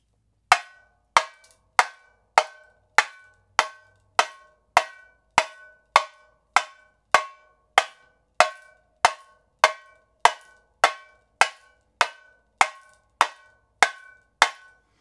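Sharp, bright tamborim strokes strike at a steady, even pace in the same spot on the drum, each a crisp metallic-sounding tap with a short ring, played alone and close.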